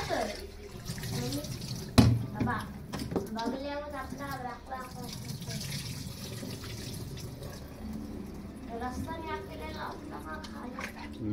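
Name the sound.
washing mutton under running water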